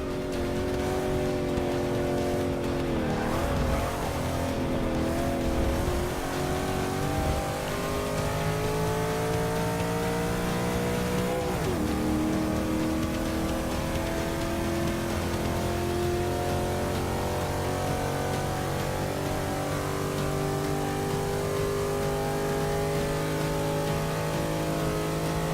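A race car in Forza Motorsport 6 held at high revs in one gear, its engine droning loud and steady with a rising pitch and a couple of brief dips, with no voices over it.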